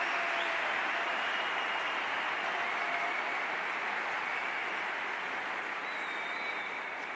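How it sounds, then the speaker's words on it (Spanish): Steady, dense applause from a large audience at the close of a political interview event, sustained and even for the whole stretch with no voices on top. "Fuerte aplauso."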